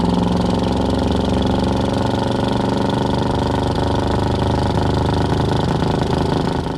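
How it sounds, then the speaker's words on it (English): A 1984 Chevrolet K10 pickup with a 5.7-litre TBI V8 and aftermarket dual-tailpipe exhaust idles steadily and close by, a low, even rumble that holds constant throughout with no voices. "You hear a little bit of motor, you hear a little bit of exhaust."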